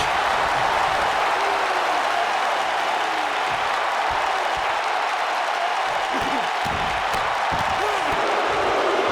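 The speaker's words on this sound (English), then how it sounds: "Look at Connor putting on a show, and the crowd is eating it up" A virtual arena crowd at a wrestling match in the video game WWE 2K19 keeps up a steady, dense roar of cheering and applause throughout, with faint thuds underneath.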